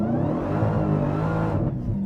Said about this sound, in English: give it full throttle, release one paddle. Now we're staged. Release the brake pedal,